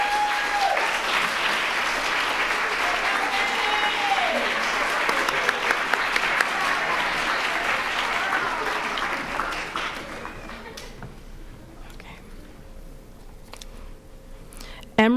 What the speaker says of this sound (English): A round of applause for Naima.